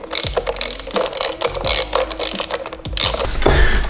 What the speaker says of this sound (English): go ahead and tighten down these screws again